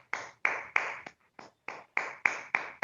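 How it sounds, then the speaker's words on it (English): About nine evenly spaced, sharp claps from a single pair of hands, close and fairly loud with short gaps between them, during an online Toastmasters club meeting. "So give them both a big round of applause."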